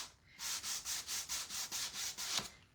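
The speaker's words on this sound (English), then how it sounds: "now I'm taking the edge of my sanding tool" Rhythmic scraping of the edge of a sanding tool scuffing a surface, about ten steady back-and-forth strokes, close and fairly loud with no voices.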